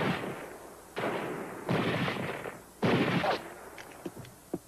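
Rifle gunfire in a 1955 western film shootout: three loud, close rifle shots with rolling echoing tails at about one-second intervals, followed by a few fainter distant cracks.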